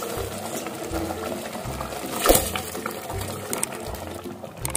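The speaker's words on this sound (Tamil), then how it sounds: "தண்ணியை நல்லா வடிகட்டிட்டு போட்டுக்குவோம்." Soaked rice being drained and added to a cooking pot for donne biryani: a brief splashing pour in the middle over a rhythmic background of kitchen sizzle and low hum, no talk.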